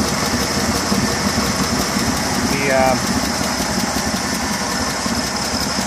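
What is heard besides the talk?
1955 Fargo truck engine idling with dual carbs, new exhaust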